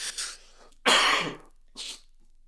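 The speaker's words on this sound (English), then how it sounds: "That might be the first of a few coughs that you hear." Three coughs sound close and harsh: a quick first one, a loud heavy cough, and then a shorter, lighter one.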